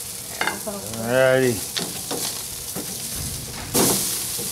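Shrimp sizzling on a barbecue grill, a steady frying hiss under a short spoken exchange, with occasional scraping and a louder burst of sizzle near the end.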